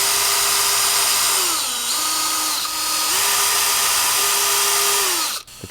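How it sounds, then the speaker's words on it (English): Power drill boring a screw hole into a wooden guitar body, a loud steady whine up close that dips in pitch as the bit bites, then stops abruptly near the end. "What I'm going to do is use that to self-center the drill bit and just drill straight into the body."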